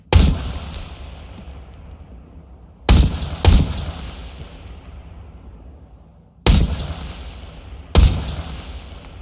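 Gunshots in the VR shooter Into The Radius 2: four sharp, loud single shots spaced a few seconds apart, each followed by a long decaying echo tail, with no talking.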